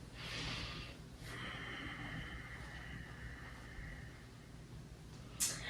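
A person takes slow, deep breaths while holding a hamstring stretch during a myofascial release session. The breaths are audible, close and soft, with a sharp snort-like intake near the end.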